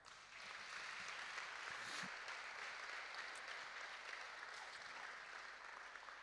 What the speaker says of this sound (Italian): accogliamole con un applauso